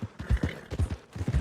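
Horse hooves clip-clopping in the video game Red Dead Redemption, a quick run of close, distinct hoof strikes in an uneven trotting rhythm, heard alone.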